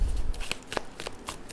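Tarot cards handled and shuffled by hand, giving quick close papery riffles and soft slaps in a short burst with no talking.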